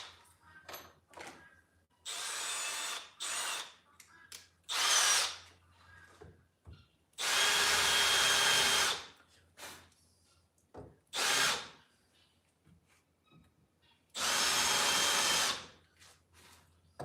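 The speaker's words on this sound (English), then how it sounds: "Okay, now to countersink." Power drill countersinking screw holes in wood in a workshop, several short whirring bursts of one to two seconds separated by pauses and small handling clicks, close and loud.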